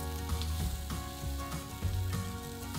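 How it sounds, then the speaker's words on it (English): Sliced onion sizzling in olive oil in a pan over medium to high heat, a steady close frying hiss with faint crackles and occasional stirring scrapes, with no talk. "Add a sliced onion and cook for 3 to 4 minutes until they start to soften."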